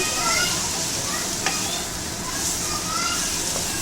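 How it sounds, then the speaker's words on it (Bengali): Pabda fish frying in a little oil over a high gas flame, with a steady bright sizzle and hiss throughout and a few sharp spatters. "এবার এসে গ্যাস হাই ফ্লেমে ভেজে নিচ্ছি"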